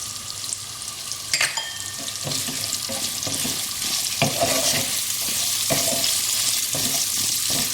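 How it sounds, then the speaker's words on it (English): Chopped onions and Bengali five spice (panch phoron) sizzle steadily in a pan for a vegetable curry, with salt added. A spoon scrapes and stirs in repeated close clatters over the constant frying hiss, with no talking. "Give this all a stir and add the salt."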